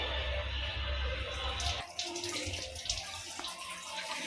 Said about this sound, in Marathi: सगळं असं प्रेशराईज नळाला पाणी पाहिजे तरच हे बलून्स फुगले जाणार आहेत